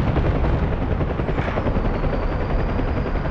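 Continuous, loud thudding rotor of a UH-1H Huey helicopter in the combat flight simulator DCS World, a steady close churning drone that fills the whole stretch without any talk.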